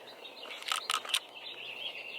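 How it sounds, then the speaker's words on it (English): Birds calling outdoors at 6 a.m., a few quick chirps in a short burst followed by a thin, faint, sustained whistling call in quiet surroundings. "drink my coffee and listen to the birds"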